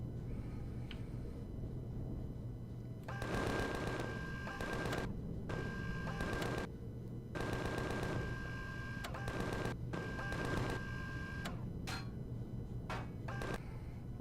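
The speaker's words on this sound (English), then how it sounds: "I've got some point defense turrets in the base over here that are shooting at me, which is what a lot of that flicking off my hull is" Point defense turrets on a base fire on a ship's hull in the space game Empyrion, heard as rapid mechanical bursts of gunfire in several separate volleys over a steady low engine hum.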